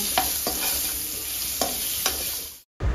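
Raw mango pieces with salt, turmeric and dried chilli stirred in a pan, giving soft scraping strokes at an uneven rhythm over a faint steady sizzle.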